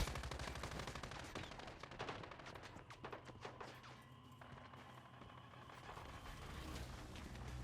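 Rapid gunfire in the video game Once Human, with continuous bursts of shots and fusillade-like cracks over a rumbling engine-like bed, loud and sustained throughout.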